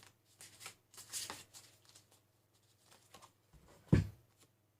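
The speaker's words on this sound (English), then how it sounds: "Right, another quick shuffle." Tarot cards from an animal totem deck being shuffled by hand in quiet, brief bursts of riffling and sliding, ending in one sharper, louder slap of the cards.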